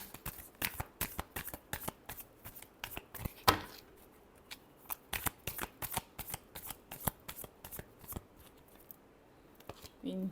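Tarot cards are shuffled by hand in quick repeated bursts of riffling and slapping, close and crisp, with short pauses between rounds and a faint voice briefly at the end.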